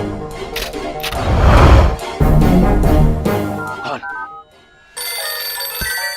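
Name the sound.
telephone ringing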